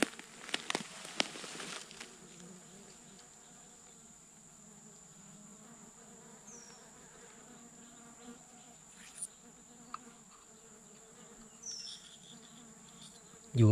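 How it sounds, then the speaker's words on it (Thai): Dwarf honey bees swarm and feed near a canal outdoors, giving a faint, steady insect buzz that hums on throughout, with a few brief rustles and knocks near the start. "ขี่มาเห็นตัวมิ้มกินเต็มเลยนะครับผม"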